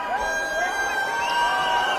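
Crowd at a Pro Wrestling League women's wrestling bout, cheering and shouting in a continuous wash of voices with whistling tones, fairly loud, with a commentator faintly under it.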